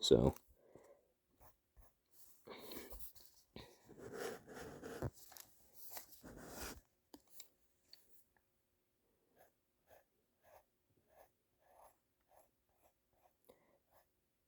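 Pencil drawing on paper while sketching hands, heard as soft scratchy strokes through a stretch of louder rubbing and scribbling early on, then a run of faint, evenly spaced taps and strokes in near silence.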